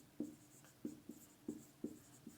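A teacher writes on a board during a physics lesson, making about seven short, quiet strokes in an even rhythm with faint room hiss between them.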